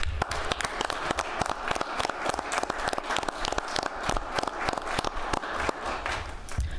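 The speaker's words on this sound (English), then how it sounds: "also give them a round of applause" A small crowd at a Carbon County, Utah commission meeting applauds the county royalty with sustained, brisk clapping of many hands, steady for several seconds with no voices over it.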